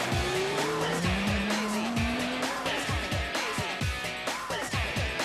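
Race cars braking and tyres squealing as two cars make contact and spin out at a bend, with engine drone and repeated sharp tyre screeches over continuous loud track noise.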